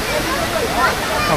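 Tirathgarh waterfall roars as a steady broadband rush of falling water, continuous and fairly loud with no breaks.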